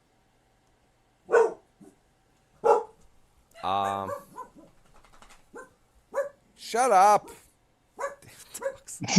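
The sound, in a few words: dogs barking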